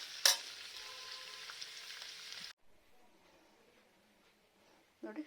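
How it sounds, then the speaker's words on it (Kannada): Chicken fries in a pan with a bright, steady sizzle, beginning with a sharp hiss as it goes in and cutting off abruptly after a couple of seconds, followed by quiet clatter and a brief knock. "ಆಮೇಲೆ ಈ ಬಾಣಲೆಯಲ್ಲಿ ಚಿಕನ್ನ ಹಾಕ್ತೀನಿ."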